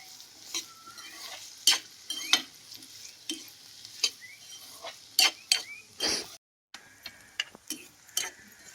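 Bitter gourd pieces fry in oil while a spoon stirs them, giving a faint sizzle broken by repeated scraping strokes and sharp metallic clinks in an irregular rhythm.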